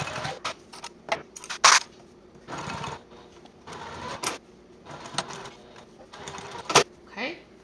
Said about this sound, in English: We're going to top stitch at 1/8 inch seam allowance.